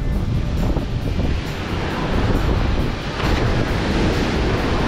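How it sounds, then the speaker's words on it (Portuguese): Ocean surf rolling and breaking on the beach at Praia dos Anjos in Arraial do Cabo, a steady loud wash of waves with wind buffeting the microphone throughout, no voices. "As ondas já começam a diminuir aqui"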